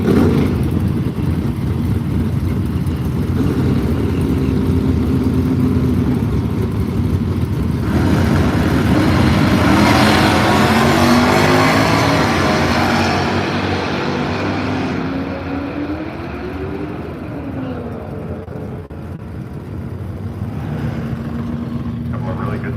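A Nova and a Chevy truck drag racing at Firebird Raceway, their engines roaring loudly and rising in pitch as they accelerate down the strip, then fading away into the distance.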